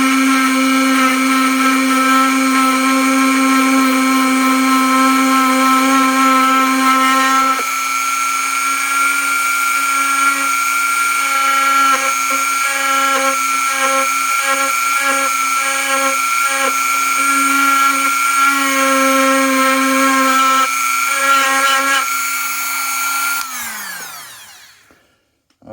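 A milling machine cuts a channel in a lock part with a loud, steady whining tone, shifting slightly in pitch partway through, and then spins down with a falling whine as it shuts off at the end.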